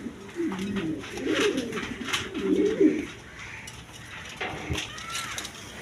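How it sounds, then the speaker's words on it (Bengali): A pair of adult Chuya Chandan pigeons coo in low, rolling phrases close by during the first half, followed by scattered rustling and a few sharper knocks. "এক পেয়ার চুয়া চন্দন কবুতর একদম ফেরেস কোয়ালিটি নিউ এডাল পেয়ার"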